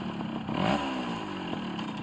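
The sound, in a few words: rebuilt Yamaha FS1E moped engine revving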